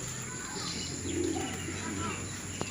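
Homing pigeons at a loft cooing softly and steadily, with faint chirps and a brief flutter, set against a low outdoor hum.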